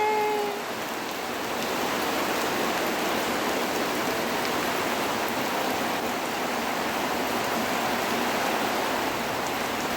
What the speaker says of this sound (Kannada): ಫೈನಲಿ ಮಳೆ ಬಂತು